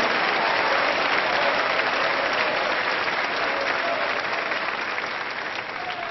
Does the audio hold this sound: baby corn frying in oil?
no